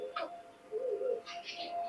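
A slender Teddy pigeon gives soft, low murmuring coos in a quiet space, a couple of short close calls with faint higher chirps between them.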